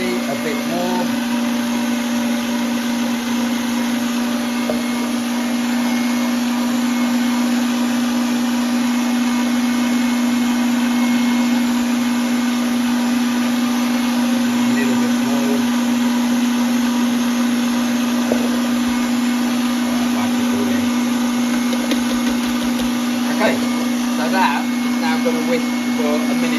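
An electric mixer whisks mint chocolate marble cake batter with a loud, steady whirring drone that runs unbroken throughout, with no voices over it.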